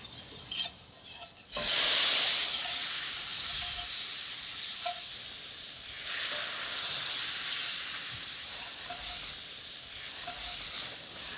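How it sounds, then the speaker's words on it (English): A whisk stirs fish fumet into a hot roux in a pan, with a steady bright sizzle and hiss that surges in after a brief quiet start and holds for several seconds, broken by faint metallic clicks of the whisk. "I'm whisking while I'm incorporating because I really don't want any lumps"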